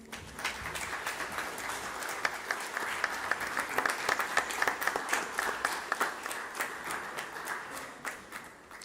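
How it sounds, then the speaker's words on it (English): Audience at a national nutrition workshop in India applauds a bouquet presentation, a sustained round of steady hand clapping from a hall crowd, even and continuous from start to finish with little speech. "A round of applause,"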